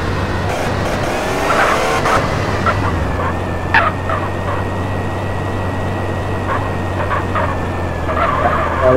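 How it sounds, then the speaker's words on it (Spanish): Cars driving past in a street parade, a continuous low engine rumble with tyre noise and occasional sharp squeaks and horn-like tones over loud steady traffic. "Ahorita tenemos un desfile de carro"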